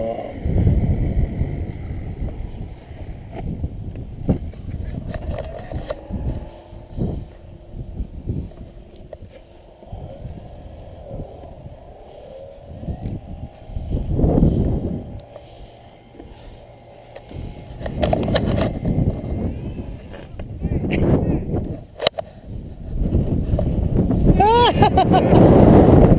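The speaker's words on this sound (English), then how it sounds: "That's a lot of wind." Strong outdoor wind buffets the microphone in gusty, roaring bursts that rise and fall, with people talking intermittently in between.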